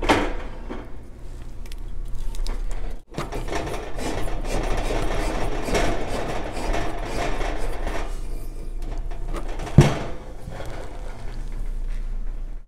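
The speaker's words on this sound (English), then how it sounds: "Once the propane tank has been tightened onto the stove" A 1-pound propane tank is screwed onto a Coleman camping stove, making close scraping, rasping rubs of metal threads turning in repeated strokes, with one brief pause and a small clink near the end.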